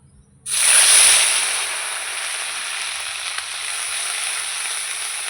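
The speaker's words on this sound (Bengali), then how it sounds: "ফোড়নটা আমার হয়ে গেছে মশলাটা দিয়ে দেবো" Ground spices with onion, cumin, ginger and garlic paste hitting hot oil, bursting into a loud sudden sizzle after a brief quiet start, then settling into a steady close hiss that slowly eases.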